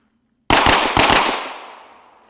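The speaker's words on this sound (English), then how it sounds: "You'll have only 2 seconds to draw and fire 2 rounds." Pistol shots fired during a police firearms qualification drill at a shooting range: two sharp, loud, close reports about half a second apart, each leaving a long echoing decay.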